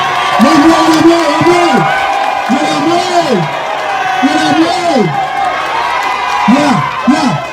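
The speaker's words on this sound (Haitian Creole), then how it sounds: "nous sommes capables de mettre un gros bravo pour PDG Yves" A crowd at a rally cheers and applauds for PDG Yves, with a steady wash of clapping and voices and repeated rising-and-falling whoops or horn-like calls sounding loud and close.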